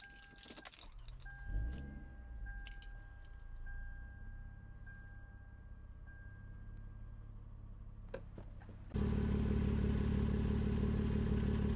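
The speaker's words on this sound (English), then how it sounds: "Now we're gonna start the vehicle and then check for leaks again." A Lexus ES300 engine starting after an oil change: keys jangle and clatter first, then the engine cranks and settles into a loud, steady idle that holds close by to the end.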